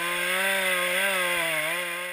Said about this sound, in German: Das Sägen 4 Meter über dem Erdboden erfordert Kraft und Konzentration.